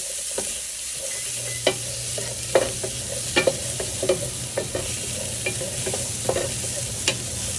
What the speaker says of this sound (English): Add the chopped onion, saute it for about a minute.